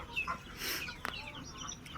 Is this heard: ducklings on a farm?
yes